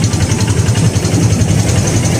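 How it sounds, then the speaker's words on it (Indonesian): A diesel engine driving four ventilation blowers in a poultry house used for brooding gives a loud, constant low rumble and drone, close and unbroken, with no talk over it. "Ini kalau suaranya seperti ini pakai diesel pastinya teman-teman, pakai diesel."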